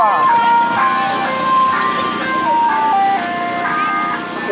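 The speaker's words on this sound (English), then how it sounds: "I cannot believe there's another ice cream truck, but it's a different new ice cream truck." A second, different ice cream truck plays a looping chiming electronic melody, steady and loud, close by.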